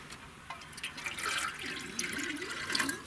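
Water trickles and splashes as it is poured into an animal's drinking container, a soft continuous liquid pour with small drips, fairly close and moderately quiet, with no talking over it.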